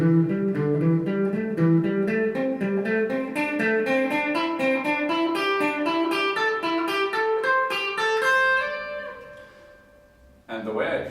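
A lone guitar runs through a pentatonic scale in quick four-note groups with finger rolling, notes climbing steadily in a smooth, even stream, then a pause and a final strum.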